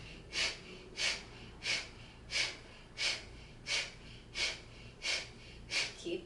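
Deep, steady breathing during a gentle seniors' stretching exercise: about nine evenly spaced breaths, each a soft airy rush, close and clear with nothing else over them.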